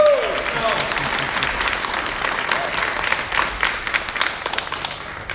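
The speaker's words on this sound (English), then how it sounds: "Come on, clap!" Steady applause from an audience at a youth legislative theatre show, a dense wash of clapping starting loud and easing slightly, with voices mixed in.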